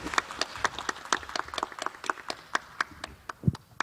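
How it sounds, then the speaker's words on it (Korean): Scattered clapping from a modest audience welcoming a professor onstage at a clean-air roundtable talk concert in Gyeonggi Province, with distinct individual claps in an uneven rhythm, fairly light and thin. "여러분 힘찬 박수로 교수님 맞이해 주시면 고맙겠습니다."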